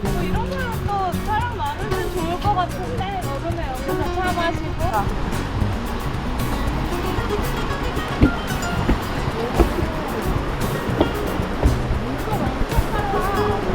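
Strong rushing water current in Düden Park, Antalya, a steady broadband roar throughout, heard outdoors with people talking over it.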